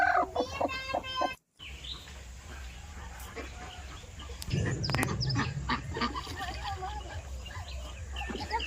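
Ducks in a backyard poultry yard among hens laying eggs, their quacks and clucks heard as scattered calls near and far over steady background noise, with a brief dropout early on.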